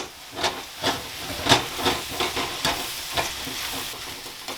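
Cheese kottu is mixed in a thachi wok with a steady run of rhythmic spatula strokes, each scrape a loud close burst over a constant sizzling hiss, with no voices.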